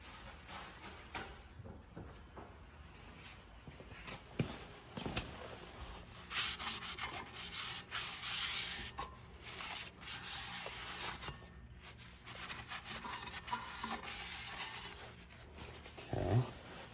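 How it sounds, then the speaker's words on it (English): A cloth or rag scrubs oil off a rear brake rotor on a 2015 VW Jetta TDI with continuous close rubbing and wiping strokes that swell and fade over a low background, with no talk. "I'm gonna make sure that we clean off any oils that we might have got on there by inadvertently touching the grease."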